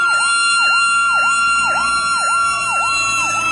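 A US fire truck siren wails in fast, repeating rising-and-falling cycles, about two per second, loud and steady with no voices.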